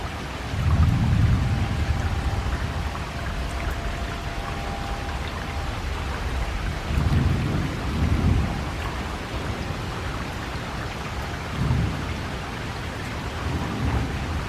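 A severe thunderstorm over Independence, Missouri, with steady heavy rain hissing throughout and several deep rolls of thunder rumbling up and fading at intervals.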